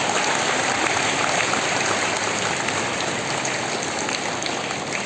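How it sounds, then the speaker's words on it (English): Sustained, dense applause from an audience at an Independence Day celebration, steady and fairly loud across the whole stretch with a rain-like hiss of many hands. "give us a round of applause."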